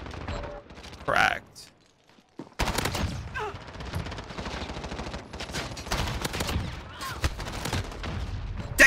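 Rapid automatic gunfire bursts in the video game Modern Warfare, loud repeated volleys with brief pauses, while someone comments briefly over the shooting.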